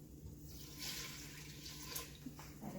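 Warm water splashes and gurgles steadily as it is poured into sourdough bread dough in a mixing bowl, a soft continuous stream lasting a few seconds with faint kitchen background.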